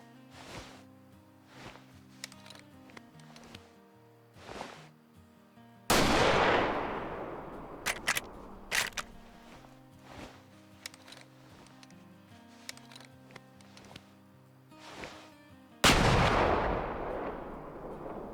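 Rifle shots from a .338 hunting rifle in the game Way of the Hunter, two loud booming reports several seconds apart with rolling echo tails, separated by quieter clicks and handling sounds of reloading.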